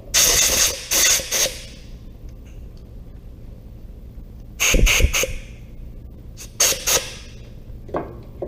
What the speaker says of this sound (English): now I'm going to take my air blower, I'm going to clean that hole out